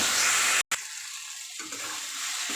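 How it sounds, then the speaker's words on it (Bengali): Water poured into a pan of fried curry with potatoes and spices while cooking a prawn dish, a short steady rush of liquid heard close up and alone, broken by a brief gap before the pouring continues. "এর মধ্যে আমি এখন দিয়ে দেবো জল।"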